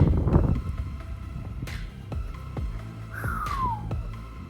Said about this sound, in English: Super windy out too, man. Really windy